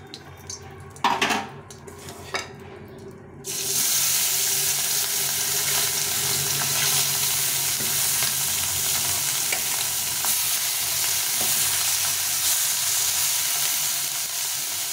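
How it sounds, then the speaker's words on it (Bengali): Small chuno morola fish hit hot oil in a wok with a sudden loud, steady sizzle that carries on unbroken, after a few clinks and scrapes of utensils on the pan. "এই মাছগুলো ভেজে নেব।"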